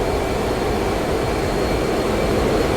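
A steady, loud roar of an FA-18C Hornet jet with afterburners lit in DCS World, a dense, unbroken rush of engine noise that holds constant throughout with no voices.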